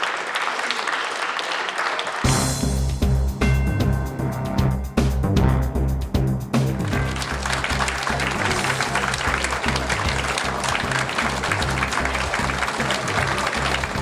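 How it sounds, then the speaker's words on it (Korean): Sustained applause at a political party founding event as the party leader enters, a broad continuous roar of many hands, with music starting under it after a brief quieter opening. "의원님께서는 큰 박수로 환영해 주시기를"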